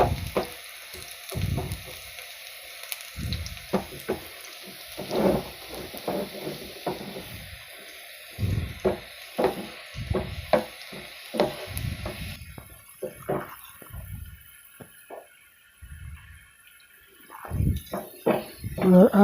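Garlic and onion frying in a pan for a dhaba-style dal chana tadka: a steady, soft sizzle runs throughout, with a person talking on and off above it.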